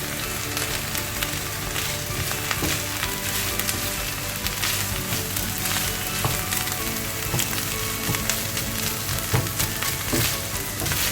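Minced meat fries in a pan after the onions have softened, a steady dense sizzle with occasional stirring scrapes and crackles holding throughout at close range.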